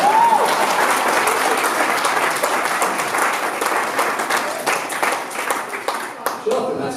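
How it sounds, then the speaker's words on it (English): Wedding guests at a reception burst into warm, sustained applause during the speeches, loud and dense, thinning slightly toward the end with a few voices underneath. "round of applause for you"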